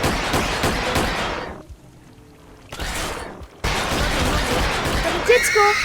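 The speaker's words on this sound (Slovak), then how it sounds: "Hodil som mu granát." A grenade blast in the video game Shift at Midnight erupts as a dense, rumbling burst amid continuous game gunfire and noise, with a brief lull before the chaos resumes, while players talk over it.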